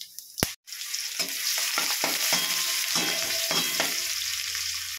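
Whole cumin, cloves, cinnamon and dried red chillies sizzle and crackle in hot oil, with a few stirring scrapes breaking through the steady frying hiss.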